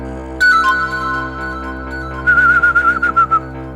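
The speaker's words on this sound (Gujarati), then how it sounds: "કેવી સિસોટી વગાડે છે." A person whistling a sustained tone, then a quick run of warbling notes, clear and close over a steady humming background.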